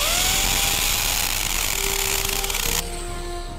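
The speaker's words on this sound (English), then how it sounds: "Step number 96, drill the holes." Power drill boring holes into a wall, a loud continuous whine with a steady pitch that drops in level near the end.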